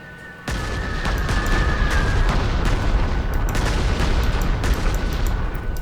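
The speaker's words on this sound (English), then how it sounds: "What if we were to bomb the heck out of this guy as well?" Bombing attack in the Panzer Corps 2 war game, a sudden loud onset into a dense, sustained roar of rumbling explosions and blasts layered over each other, filling the whole stretch without talk.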